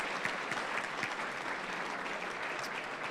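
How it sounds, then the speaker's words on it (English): Audience applauding the 2025-26 Linsly hockey team at a school winter sports awards ceremony, a dense, steady round of clapping filling the hall for about three seconds with no talk over it. "If you could give one more round of applause to the 25-26 Linsly hockey team."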